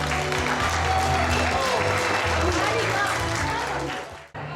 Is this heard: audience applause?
yes